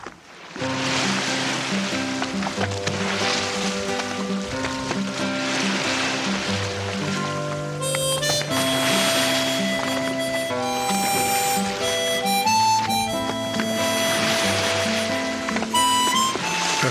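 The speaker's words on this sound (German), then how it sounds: "Das Wasser plätschern und das leichte Schaukeln machen uns schläfrig." Water laps and splashes against the hull of a sailing boat at sea on a Baltic crossing toward Bornholm, a continuous washing sound under a layer of tonal music.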